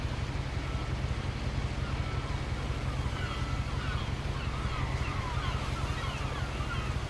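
Steady wash of water and waves around a boat, with constant low rumble and breezy noise throughout, no talking, from the video game What Remains of Edith Finch.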